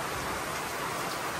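Heavy rain falling before an approaching typhoon, a dense, steady hiss of downpour that fills the whole stretch evenly with no voices.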